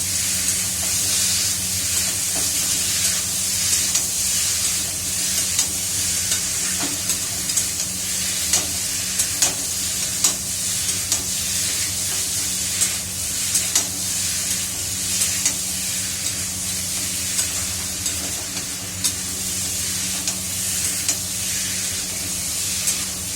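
Potatoes sizzling and hissing in a hot pan while being stirred, with repeated scraping and clinking of a utensil over a steady, loud frying crackle.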